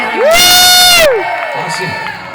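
An audience at a stage hypnosis show bursts into loud cheering and whooping with applause for Austria, a brief roar that fades into lingering crowd noise and voices.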